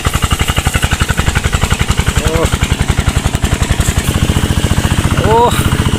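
A modified street racing car's engine runs loud and close with a rapid, rough, pulsing beat, briefly blipped up in revs a couple of times, while someone talks excitedly over it.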